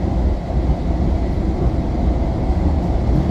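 Bombardier M7 commuter train on a Hempstead semi-express run, heard from inside as a steady low rumble and rolling roar, loud and continuous with no break, and no voices over it.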